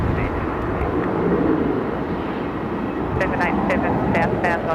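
A fixed-wing airliner on approach to land at Melbourne Airport gives a steady, loud engine roar that holds throughout, with air traffic control radio chatter running over it.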